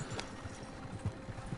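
Horse hooves clip-clopping in a video game while riding through valleys: a soft, fairly even series of hoof thuds at a moderate distance, quiet and continuous with no talk over it.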